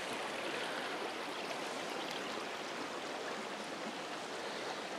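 A forest creek, once worked for gold, flows and rushes in a steady, even wash of water with no voices, heard at a moderate distance.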